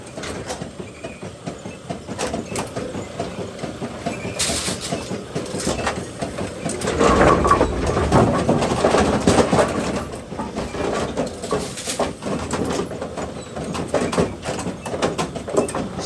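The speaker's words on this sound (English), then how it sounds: "So we're going to cycle the machine." Machine cycling after a lane double-feed was cleared, a steady mechanical clattering and rumbling with rhythmic clacks that swell midway, moderately loud and continuous.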